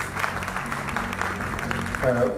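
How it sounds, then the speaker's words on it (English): Applause from an audience at an award ceremony in Lahore fills the space as a dense patter of clapping, with voices underneath and a brief tonal sound near the end. "Huge applause for him."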